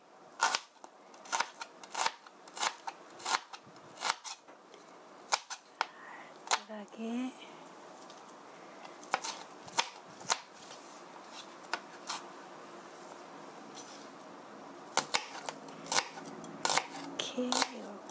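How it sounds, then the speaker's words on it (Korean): Repeated sharp knife strikes on a cutting board as ingredients are minced for tuna croquettes, coming in quick irregular bursts of taps with short pauses between them, close and clear above a quiet kitchen background. "칼집을 이렇게 넣어서 잘게 다져주세요"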